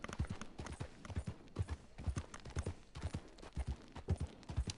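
Trail horses walk along a path, their hooves clip-clopping in a steady irregular rhythm of hollow knocks, fairly close and quiet with no talk over them.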